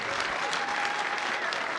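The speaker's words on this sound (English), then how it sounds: "A big round of applause for Cedric Yarbrough and Thomas Lennon." Audience at a comic convention panel for the Reno 911 cast applauds steadily, a dense, even wash of many hands clapping with some crowd noise throughout.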